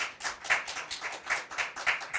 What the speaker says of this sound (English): Nobody applauded, and now we can applaud.